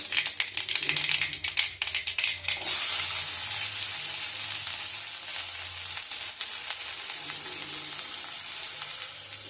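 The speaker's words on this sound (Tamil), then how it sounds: "ஆயில் ஹீட் ஆனதும் கடுகு போட்டுடலாம். கடுகு பொரிஞ்சதும் ஆனியன்," Mustard seeds and onion frying in hot oil in a pan, a loud steady sizzle with crackling pops early on, then a dense continuous hiss throughout.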